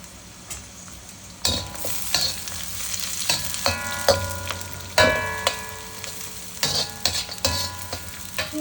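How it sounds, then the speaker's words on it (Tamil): Green chillies dropped into hot oil for mutton biryani sizzle and crackle, with sharp bursts of frying and spoon stirring against the pan, loud and close with no talk. "நல்லா பொறிஞ்சு வந்தோடனே நான் வந்துட்டு பச்சை மிளகாவும் சோப்பு மிளகாவும் போட போகிறேன்"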